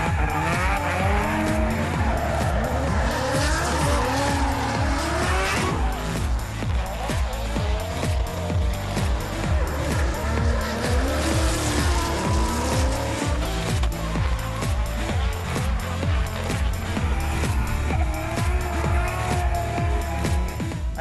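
Drift cars at the Mallala Motorsport Park round of the Australian Drifting Grand Prix scream with revving engines and long, loud tyre squeals as they skid, a dense, continuous racket without pause.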